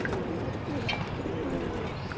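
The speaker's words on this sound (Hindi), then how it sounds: "ये देखें भाई कबूतर चेक करें दोस्तों" A flock of Lalband pigeons in a Pakistani loft coos softly within a dense, steady wash of cooing and rustling, with no clear talking.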